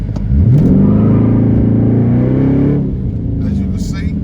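A car fitted with a Sprint Booster throttle controller set all the way out pulls away hard, its engine revving up loud and close for about two and a half seconds before fading, with a voice briefly at the end.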